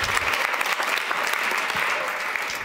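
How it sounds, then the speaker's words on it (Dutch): Audience applause at a talk-show style knowledge café evening, dense steady clapping from a full room filling the whole stretch, loud and close with no voices over it. "Applaus."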